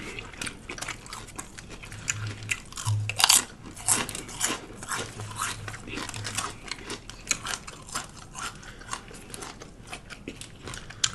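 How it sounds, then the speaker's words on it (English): Close-up chewing of a Jimmy John's Italian sub sandwich, with wet crunching bites and mouth noises in an irregular rhythm over several seconds, loud and near. "Stop when you're done chewing your food."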